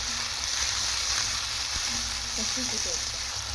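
Tomato and green chili sautéing in a pan, a steady close broadband frying hiss that holds evenly for a few seconds, with a faint tonal murmur in the background.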